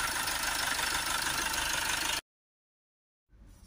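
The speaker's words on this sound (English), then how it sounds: "we'll let it idle back down." A Mercedes Vito 2.1 CDi diesel van engine idles in a steady, loud, even drone that cuts off abruptly. A short silence follows, then the engine returns briefly.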